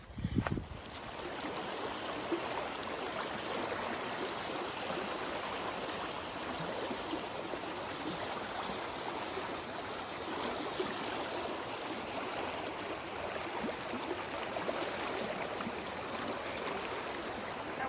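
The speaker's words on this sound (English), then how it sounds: "water's still rushing." Rushing stream water in winter, a steady close-up roar and gurgle that continues evenly throughout, with a brief bump or knock at the start and no talking.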